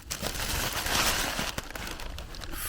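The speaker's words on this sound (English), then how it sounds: "It's a bunch of plastic bags," Plastic bags crinkle and rustle up close at a makeshift bamboo hut near Lau Shui Heung, Hong Kong, in a dense, continuous crackling with a few sharper crunches.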